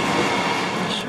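Commuter rail car running from Denver airport toward Downtown Denver, Colorado, a loud continuous rumble and roar of the moving train from inside the carriage, steady with no pauses.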